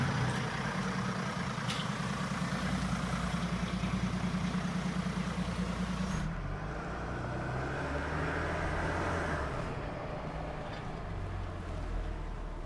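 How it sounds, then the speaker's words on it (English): A 2025 Mercedes G450 diesel pulls away through urban traffic, heard from inside the cabin as a steady low engine drone that rises and then eases after a few seconds. "You definitely hear this very powerful diesel engine."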